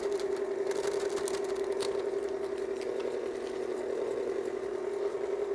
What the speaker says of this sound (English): you can stop the mixer to do this if you don't feel comfortable doing it like this on the fly